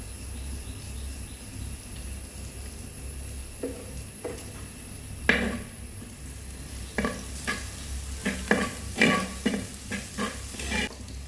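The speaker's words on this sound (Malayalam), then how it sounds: "ഇത് നന്നായിട്ടൊന്ന് ഇളക്കി കൊടുക്കുന്നുണ്ട്" A beetroot stir-fry with onion is stirred in a pan, a soft low sizzle at first, then a quickening run of spoon scrapes and clicks against the metal, close by.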